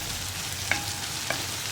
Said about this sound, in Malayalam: ഇതിലേക്ക് നമുക്ക് കുറച്ച് കറിവേപ്പിലയും കൂടി ചേർക്കാം